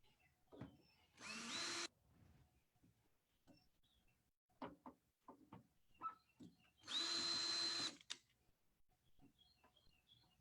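A power drill drives the top screws into a fog machine in two short bursts of whirring, each about a second long and several seconds apart, close and loud between softer handling clicks and taps.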